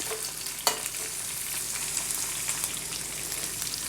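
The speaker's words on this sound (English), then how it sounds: "It's being fried very nicely." Chopped capsicum pieces for chilli chicken fry in a pan with a steady close crackling sizzle, one sharp clack of a stirrer early on, and no voices.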